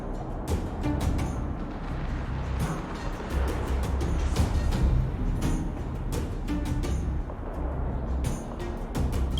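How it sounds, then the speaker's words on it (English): Harsh, noisy roar from a Fragmentum monster in the video game Honkai Star Rail, a continuous broadband static-like rumble with crackling bursts, loud and steady throughout without talk. "That noise! Do Fragmentum monsters usually sound like this?"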